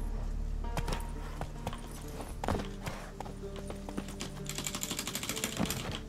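Galloping horse hooves in The Witcher 3: Wild Hunt, a steady rapid clip-clop rhythm pounding close and loud over a constant game background hum, with no talk.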